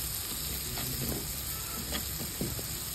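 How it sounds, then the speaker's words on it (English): Onion and red masala frying in oil in a pan, a soft continuous sizzle with faint scraping and clinks as the mixture is stirred, quiet and close with no talk. "Give it a stir. Cook until the oil separates from the masala."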